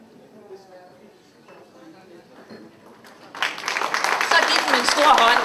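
Applause from an audience after a toast at an awards ceremony bursts in partway through, loud dense clapping that follows quieter murmuring and talk.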